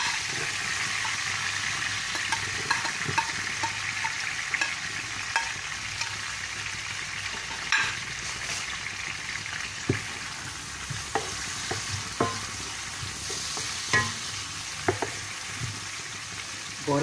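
Onions fry in hot oil for a prawn sambal tumis, a steady close sizzle that runs throughout, broken by frequent scraping and clinking stirs in the pan.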